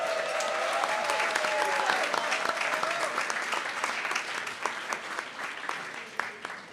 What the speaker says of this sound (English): One more round of applause for Ethan,